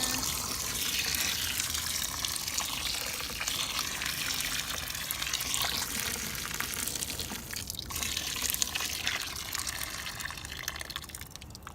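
Hot water runs steadily from a tap into a tub of crystals soaking in an oxalic acid cleaning solution, a continuous splashing, filling sound at close range with no talking.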